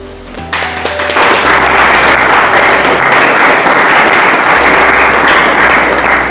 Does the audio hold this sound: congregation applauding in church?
yes